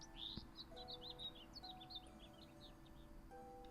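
Ambient bird noises in the video game Baten Kaitos HD: a quick scatter of small, high chirps and tweets, faint and distant, over a low, steady background hum.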